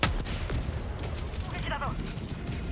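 Explosive-round gunfire in Helldivers 2, heard as rapid overlapping blasts and booms under someone talking over the game action.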